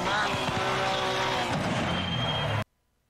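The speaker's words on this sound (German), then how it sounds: "Gleich kommt links ein Auto." A race car in Assetto Corsa Competizione roars past with a rising and falling engine whine and gear shifts, loud and close, before the sound cuts off abruptly into silence.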